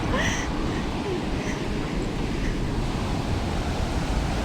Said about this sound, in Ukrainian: Думаю, ви відчуваєте цей звук водоспаду.